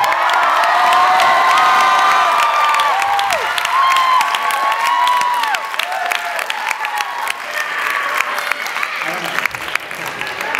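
A classroom audience of students cheers loudly for a teacher, with shrill whoops, shouts and clapping forming a sustained roar that stays strong before thinning slightly toward the end.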